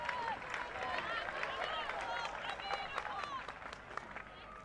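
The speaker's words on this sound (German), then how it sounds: "Es gibt großen Applaus" A stadium crowd at a women's football match between Hamburger SV and Borussia Mönchengladbach applauds as an injured player limps off, a broad distant wash of clapping and crowd noise with a commentator talking over it.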